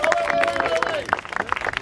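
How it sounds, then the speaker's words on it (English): An outdoor crowd at the FIGMENT arts festival opening on Governors Island, New York, claps and cheers, with scattered voices and a high whistle-like tone riding over the steady applause. "let's give them a big round of applause anyway."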